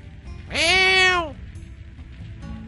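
A cat in the video game Dark Cloud lets out a single clear, drawn-out meow lasting under a second, close and loud over faint game background sound.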